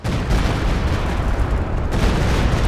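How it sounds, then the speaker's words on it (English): A Stuka rocket artillery barrage in Company of Heroes 2 pounds down as a loud, unbroken wall of rumbling blasts that keeps roaring throughout with only a brief dip in intensity. "Stuka barrage."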